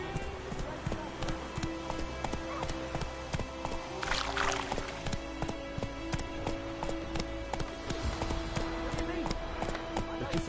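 Roach the horse's hooves clip-clopping in The Witcher video game, a steady rhythmic trot of close hoofbeats continuing throughout, with someone talking over it.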